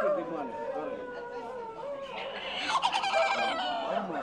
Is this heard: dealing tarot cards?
no